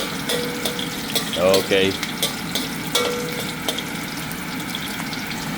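Onions frying in oil alongside darkening garlic in a pan, a steady crackling sizzle with scraping stirs and light clinks, a brief spoken word cutting in near the start.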